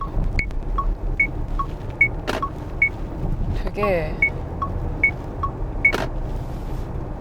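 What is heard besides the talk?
car turn signal indicator clicking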